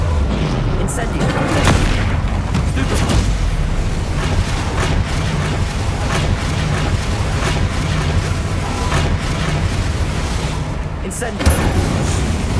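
An Incendio fire spell cast in Hogwarts Legacy erupts in heavy, rumbling booms and blasts, loud and sustained against a thick wash of game noise.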